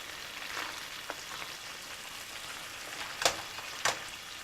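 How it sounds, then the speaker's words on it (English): Pot of chai choy mixed vegetables with bean curd boiling on high heat, a steady bubbling sizzle with two sharper clinks or pops near the end, no voices. "Okay, now you can see it's boiling."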